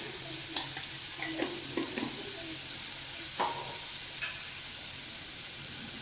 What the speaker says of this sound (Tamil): இப்போ மிளகாத்தூள் கொஞ்சம் இது வேணும்னா போட்டுக்கோங்க